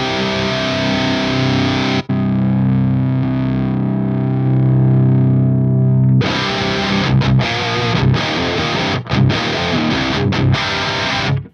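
Electric guitar played through the Diezel model on an Axe-Fx III set to channel 2+, heavy distorted tone with a long sustained chord followed by loud, tight palm-muted chugging riffs and brief stops.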